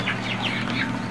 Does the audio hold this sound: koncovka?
no